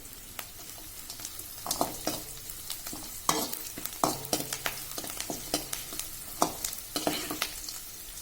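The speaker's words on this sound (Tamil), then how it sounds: "இப்போ ஓரளவுக்கு நல்லா வெங்காயம் நல்லா நல்லா வதங்கி வந்துருச்சு" Onions sautéing in a pan for coconut rice: repeated spatula scrapes and stirring strokes over a steady, low sizzle, close and continuous, with no voices.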